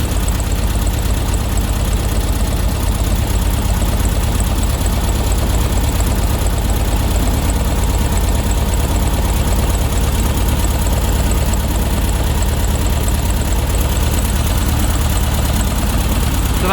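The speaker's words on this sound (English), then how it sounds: "you can hear that the engine's starting to speed up a bit" A Volkswagen Beetle engine idles fast during a tune-up, giving a loud, steady, continuous drone with a low rumble and a slight knocking vibration, running alone without any voices.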